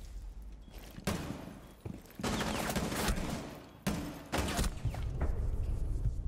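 Gunfire in Rainbow Six Siege: loud, close bursts of rapid shots come in several volleys separated by short pauses, with some thuds mixed in.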